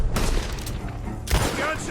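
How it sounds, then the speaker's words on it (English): Rapid gunfire in Red Dead Redemption 2 crackles from a barn in a quick burst of sharp bangs and a booming thud, mixed with game noise and a voice talking over it. "Gunshots are coming from that barn."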